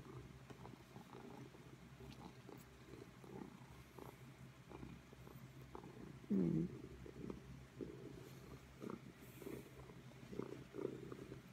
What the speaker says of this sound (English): Like a happy cat.